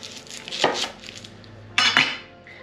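A knife slices through green tomatoes on a cutting surface, giving two distinct crisp cuts with clicking contact, close and clear, with no talking.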